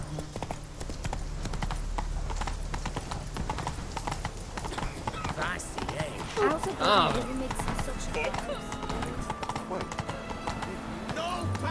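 Horse hooves clip-clopping in a steady trot in The Witcher 3, a rhythmic, fairly close clatter running throughout, with a brief snort and voices speaking partway through.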